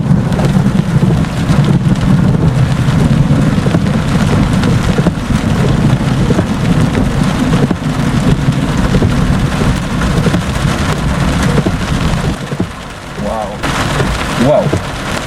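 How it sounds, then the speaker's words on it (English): Heavy rain pours steadily during a Florida summer storm while thunder rumbles nearby, a dense continuous wash with low rolling booms underneath and a brief lull near the end. "listen to thunder"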